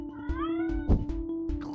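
A cat meows repeatedly in the Goo Gladiators video game, several sharp rising cries in quick succession over a steady game hum, with a thudding hit near the middle.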